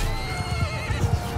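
A horse in the Mount & Blade 2 Bannerlord battle game gives a short, loud neigh with a wavering whinny over faint hoof clatter.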